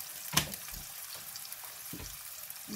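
Onion and sliced mushrooms fry in a pan, a soft steady sizzle with a sharp clatter at the start and a few quiet stirring knocks, close and fairly low in level.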